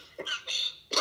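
A person coughs several times in quick succession, close and fairly loud, with no speech.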